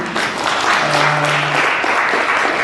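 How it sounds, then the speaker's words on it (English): An audience at a panel discussion gives a round of applause, a dense, even wash of clapping from many hands lasting the whole moment, with a faint murmur underneath. "So give him a round of applause"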